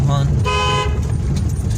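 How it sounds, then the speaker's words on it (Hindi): A car horn blares briefly, then a second longer honk follows, over constant low engine rumble inside a car in narrow lanes. "लॉन्ग हॉर्न पुश करना"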